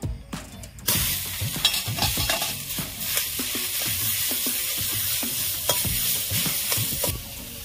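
Boiled papaya stirred into two spoonfuls of hot ghee in a pan for papaya sandesh: steady close scraping and clattering of a spatula against the pan over a continuous sizzle, with no talking.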